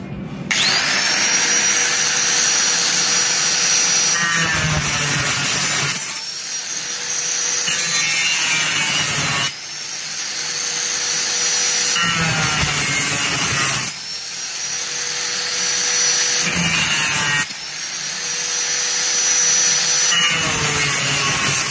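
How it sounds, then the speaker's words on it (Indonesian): A Makita M0900B angle grinder, held in one hand, cuts through metal channel with a loud continuous whine that swells into harsh cutting bursts about every four seconds. "Saya akan coba mengoperasikan gerinda ini satu tangan ya"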